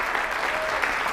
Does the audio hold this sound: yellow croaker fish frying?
no